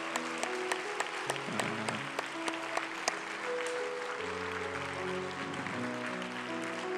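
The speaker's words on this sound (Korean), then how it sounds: "박수로 맞이하겠습니다" A Korean Methodist church congregation claps during a Sunday evening service to welcome a new pastor and his family, scattered handclaps over sustained keyboard or organ tones.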